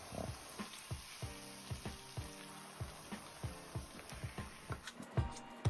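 Apple pie filling cooks in a pan over medium heat while being stirred, with soft repeated scrapes and taps at a steady pace over a faint bubbling hiss, close and quiet, with no talking.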